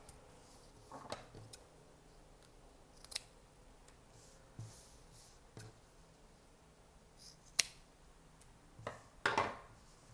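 Scissors snip through excess zipper fabric on a sewing project, a handful of soft, separate cuts spaced a second or two apart against a quiet room.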